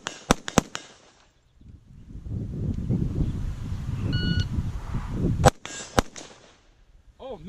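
A Primary Weapons Systems MK116 Mod1-M rifle fires a few sharp shots outdoors, one close after another, followed by a rumbling, clattering stretch and two more sharp cracks, with a voice briefly heard.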